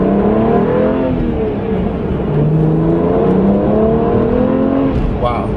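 A BMW 1M with a 332-horsepower engine accelerating hard, its loud, close engine note climbing steadily in pitch through repeated rising swells.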